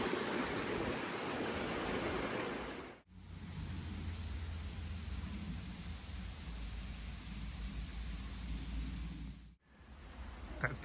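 A waterfall beside a hiking trail on the West Highland Way between Balmaha and Inverarnan, heard as a continuous broadband rush of falling water, steady and moderately distant, with no voices.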